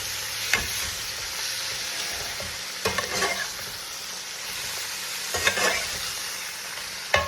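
Bacon fries in an iron skillet with a constant close sizzle, punctuated by a few louder metallic scrapes and clinks as it is moved around, and no voices.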